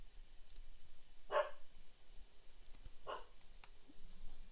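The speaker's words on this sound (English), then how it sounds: "my dog's barking" A dog barks twice in the background, each bark short and muffled, well apart over a low, steady room hum.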